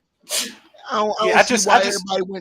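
A single sudden sneeze bursts out during casual sports talk between men, followed immediately by continued speaking voices.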